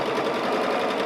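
A sewing machine runs in a rapid, steady whirring chatter of stitches while sewing quilt rows, close and constant for a brief moment.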